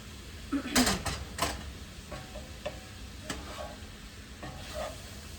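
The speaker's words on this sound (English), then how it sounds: "Stir it up and see what happens." Chicken stir-fry is stirred in a hot pan, with scraping utensil strokes and a few sharp clacks over a soft, low sizzle, fairly quiet and close.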